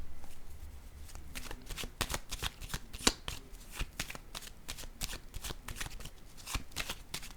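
A deck of tarot cards is shuffled up close, giving quick repeated riffling and slapping bursts in an irregular rhythm, quiet and alone.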